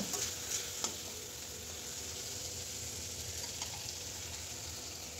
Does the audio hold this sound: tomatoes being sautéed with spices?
yes